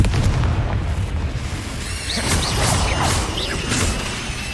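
A Confringo spell blasts in Hogwarts Legacy, a loud booming explosion with a heavy rumbling low end that carries on through the clip, with crackling, whooshing magical streaks and bursts layered over it.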